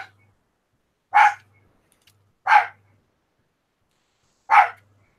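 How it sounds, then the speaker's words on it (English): Small dog barking indoors, three sharp, loud separate barks spaced about a second or two apart against near silence. "got a vicious little dog barking at"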